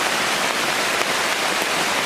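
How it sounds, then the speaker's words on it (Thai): Heavy rain with large drops pours steadily around a bird-watching hide at Bo Cha-om in Saraburi, Thailand: a dense, continuous hiss, close and loud, with no voices. "ฝนได้ตกลงมา คราวนี้ไม่ใช่ตกปล่อยๆครับ ตกลงมาแบบเม็ดใหญ่เลยทีเดียว"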